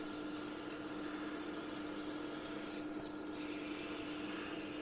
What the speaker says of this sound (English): you can see that lovely wide spray pattern going down. Just wash it over the model.